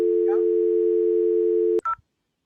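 An IP phone gives off a steady, continuous dialing tone for nearly two seconds, clear and close. It cuts off abruptly and is followed by a brief higher electronic beep.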